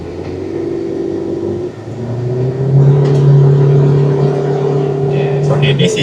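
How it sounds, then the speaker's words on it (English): A Proton Saga 1.5 with a CVT gearbox screams at full throttle, its engine drone climbing then holding at a loud, steady pitch while the car barely gains speed, with people talking over it in the cabin. "CVT you cannot like maximum throttle. Then you can hear the engine sound is screaming, but the car is not moving."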